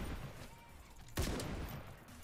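A bolt action sniper rifle fires once in an online shooter game, a single sharp loud crack partway through that fades quickly over low, steady background noise.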